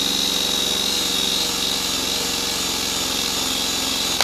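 A rotating wheel on a power tool works over a car's body panel to strip off stickers, giving a continuous, even whirring grind that holds steady and close throughout.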